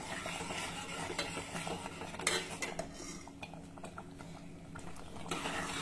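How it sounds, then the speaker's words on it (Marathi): Jaggery syrup boils in a pot while a spoon stirs it, giving soft, irregular scrapes and clinks against the metal over a faint bubbling hiss, quiet and close. "हे बघा, याला मस्त उकळी आली आहे."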